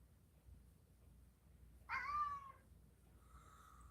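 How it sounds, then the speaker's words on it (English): A pet cat gives a single clear, drawn-out meow close by in a quiet room, followed by a fainter, softer second meow, with no voices. "This kitty is so silly."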